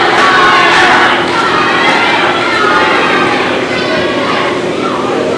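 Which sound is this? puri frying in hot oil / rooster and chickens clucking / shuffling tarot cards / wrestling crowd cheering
wrestling crowd cheering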